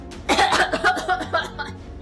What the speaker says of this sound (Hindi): वो जोर जोर से खांसने लगी।